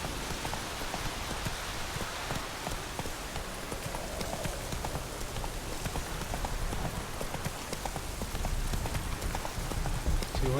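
Hooves of Roach, the horse in The Witcher video game, clop in a quick continuous rhythm over a rain-like wash of ambient game sound, moderately loud and steady throughout.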